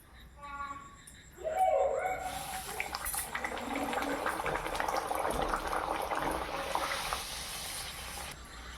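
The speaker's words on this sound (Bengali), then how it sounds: "এবার আমি ভেজে নেব।" Rolled luchi dough slides into hot oil for deep-frying, setting off a sudden, steady bubbling hiss that carries on at moderate volume after a few quieter clinks at the start.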